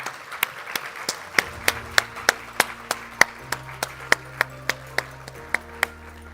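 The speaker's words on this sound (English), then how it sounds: "please, if we could give our Minister a round of applause as he approaches the podium" At a sustainability conference, a small number of hands clap in a slow, regular rhythm of sharp, distinct claps while the Minister walks to the podium, thin and sparse over a low steady hum.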